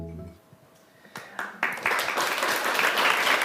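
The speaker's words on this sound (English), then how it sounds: "she definitely deserves a big round of applause" An audience breaks into applause, starting with a few scattered claps that swell within a second into dense, sustained clapping from a crowd, loud and continuous to the end.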